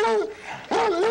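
A dog whines in high, wavering, pitch-sliding whimpers, two drawn-out cries separated by a brief dip, close by and fairly loud, in a Western TV drama scene.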